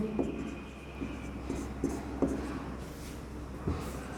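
A pen scratches across paper as chemistry notes are written for a class 10 acids, bases and salts lesson, with soft intermittent strokes and taps over a steady low room hum, faint and close.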